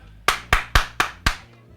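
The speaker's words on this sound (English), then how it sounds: "I'm clapping my hands" Five sharp hand claps ring out in a steady, slightly uneven rhythm, close and crisp, with a quiet room hum between them and no talking.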